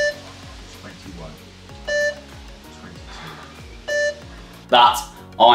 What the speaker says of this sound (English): dropping down on the beep and coming back to the top as fast as possible